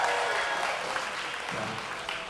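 Crowd at a band gig at Marabunta, Semarang, clapping steadily in a dense, continuous wash that stays loud throughout, with no clear voice on top.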